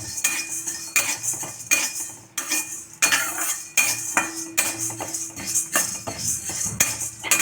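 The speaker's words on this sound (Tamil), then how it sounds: "இது துவரம்பருப்பு கொஞ்சம் செவக்க வறுத்துடலாம்." Toor dal dry roasting without oil in a pan, stirred with a utensil in repeated rhythmic scraping strokes and light metallic clinks, loud and close, with no talk.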